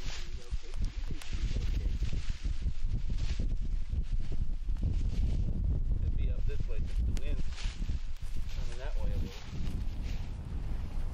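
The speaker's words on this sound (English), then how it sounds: "It was a cold, windy January day" Cold January wind buffets the microphone outdoors during a bird hunt, a steady loud roar with gusty rustling throughout.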